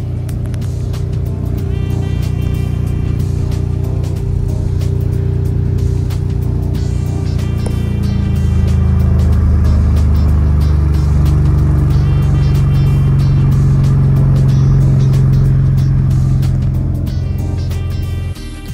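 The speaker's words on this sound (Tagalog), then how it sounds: "so ito yung tunog ng exhaust" A deep, loud V6 twin-turbo exhaust on a 2025 Ford Ranger Raptor 3.0L pickup rumbling steadily close by, with the pitch rising and falling as the throttle is blipped several times.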